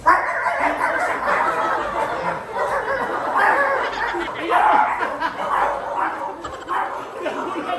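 A native street dog barks and yips among people at a pet event, the barks mixed in with lively chatter and laughter throughout.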